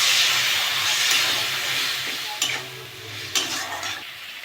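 Water is added to spice paste frying with tomato and salt, and it hisses and sizzles loudly at first, then eases off, with two sharp stirring scrapes near the end.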